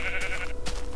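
One Minecraft sheep bleats clearly in the video game, giving a single short, wavering cry with a brief pause in the middle.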